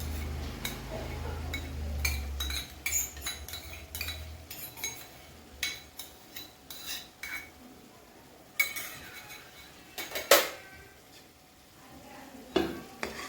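Turmeric and ginger-garlic paste stirred in a pan for misal, an utensil clinking and scraping in irregular strokes over a faint sizzle, with one sharper clink partway through, close and quiet.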